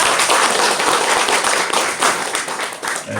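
A crowd at a provincial governor's event in South Korea claps warmly to welcome a speaker, a loud, dense and continuous roar of many hands close by, with no voices over it.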